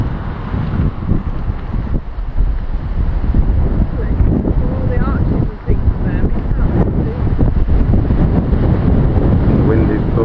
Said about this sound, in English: The wind is blowing now, but it's very much a northerly wind, blowing warm air.